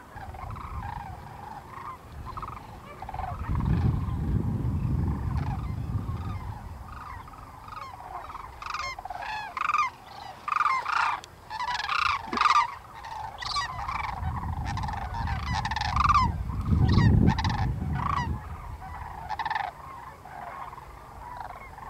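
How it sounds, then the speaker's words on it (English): A flock of geese mixed with a few cranes honks and calls outdoors, overlapping cries rising and falling in bursts over about twenty seconds, fairly close, with low rumbling wind or handling noise in between. "That group going off there, the geese mixed in with some cranes"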